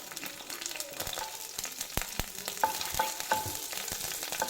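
Dried red chilies and ginger fry in oil in a pan, a faint steady sizzle broken by sharp scraping stirs and a few light pops, with no voices.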